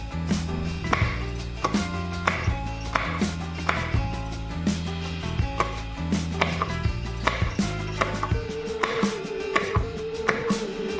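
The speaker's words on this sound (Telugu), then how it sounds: "ఒక పచ్చిమిర్చి తీసుకొని విధంగా చీరుకొని దాన్ని ముక్కలుగా కట్ చేసుకోవాలి." A knife chops a green chili into pieces on a board with steady, evenly spaced thuds that repeat close up throughout, with no voices.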